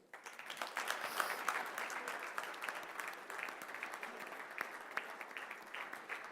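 Audience at a non-proliferation and disarmament conference dinner applauding the arrival of Dr. Lassina Zerbo, a steady, moderately loud wash of clapping from a roomful of guests that carries on without a break.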